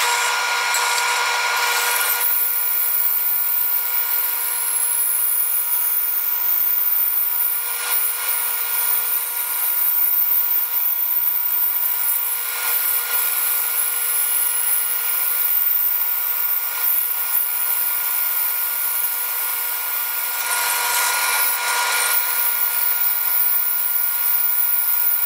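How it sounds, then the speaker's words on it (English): Bandsaw resawing strips of maple and mahogany to 3/8 inch for a checkerboard, a steady high-pitched cutting whine held close and loud for the whole stretch, easing briefly at a couple of points between passes, with no voices. "Next on the bandsaw, I'm going to resaw them to 3/8 of an inch."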